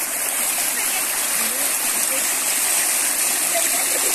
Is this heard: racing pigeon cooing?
no